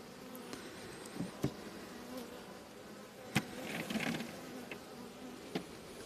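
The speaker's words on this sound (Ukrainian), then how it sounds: "Тож, бджілка у нас залишається в цьому вулику." Honey bees hum steadily around an open hive at a mobile apiary during the acacia honey flow, a dense close buzz with a few individual bees zipping past the listener and light clicks of the hive frames.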